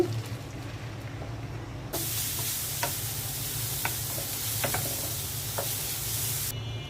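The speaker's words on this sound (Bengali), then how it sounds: "রুই মাছটা ভেজে নিচ্ছি।" Rohu fish fries in hot oil, giving a steady sizzling hiss that suddenly grows louder and fuller, with scattered sharp crackles and pops throughout and no voices.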